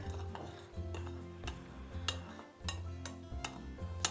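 A spoon stirs hot chocolate powder in a pan, with repeated light metallic clinks and scraping strokes in an irregular rhythm, close and fairly quiet.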